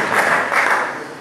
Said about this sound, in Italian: Quindi un applauso per Higuaín.